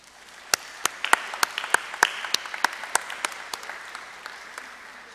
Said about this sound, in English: So just give an applause to them, because without them, absolutely we won't have this meeting.